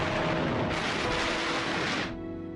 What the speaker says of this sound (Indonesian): kedua relawan itu yang tak sengaja menginjak sebuah ranjau hingga meledak